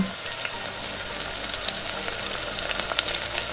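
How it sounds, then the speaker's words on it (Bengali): Water added to frying chicken masala in a pan gives a steady, dense sizzle that stays loud and even throughout, with faint crackles on top. "তারপর আমি কিছুটা জল দিয়ে দেবো"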